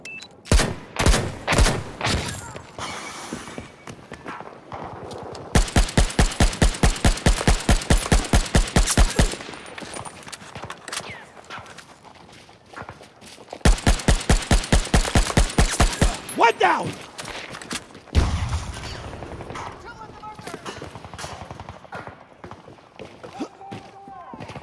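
Battlefield video game gunfire: long sustained machine-gun bursts of rapid, evenly spaced shots, plus earlier single heavy shots, loud and close, with stretches of quieter ambience and voices between volleys.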